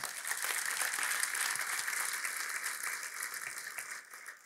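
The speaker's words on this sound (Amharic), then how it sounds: "ዝም ብላችሁ ለጌታ ክብር አጨብጭቡ" Sustained applause from a church congregation during a sermon, steady dense clapping that stays fairly even before easing slightly at the end.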